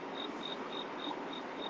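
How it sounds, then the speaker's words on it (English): Crickets outdoors chirp in a steady, evenly spaced pulse of bright trills, about every quarter second, over a constant hiss of night ambience, with no voices. "I hear crickets."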